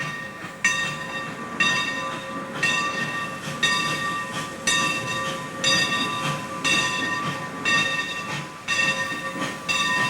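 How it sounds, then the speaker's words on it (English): A slow freight train backs into a rail yard, wheels clanking at roughly one-second intervals with screeching metallic squeals layered over a low rumble, close by. "A long freight train backs into Laughlin Yard, where it will be broken up."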